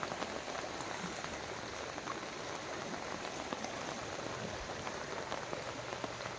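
Heavy monsoon rain falls by the Kunthipuzha river in Kerala's Karkidakam season, a dense, unbroken hiss of drops on surfaces, steady and moderately soft throughout with no voices.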